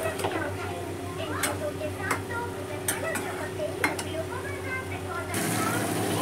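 Spice masala being stirred and fried in a pan with coriander powder, a quiet soft sizzle beneath repeated scraping clicks of a spoon against the metal, with a voice talking over the cooking.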